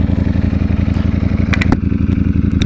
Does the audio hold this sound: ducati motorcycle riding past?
yes